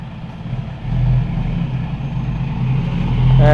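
A vehicle engine rumbles close by, idling low and then rising slightly in pitch as it revs near the end.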